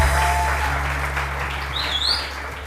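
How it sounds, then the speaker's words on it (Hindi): Studio audience applause on a live Pakistani TV morning show, a steady even wash of clapping throughout, with a faint bird-like chirp near the end. "तालियां बजाइए।"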